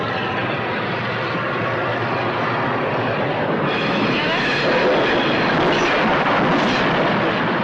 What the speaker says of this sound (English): He looked and watched the train go by like that.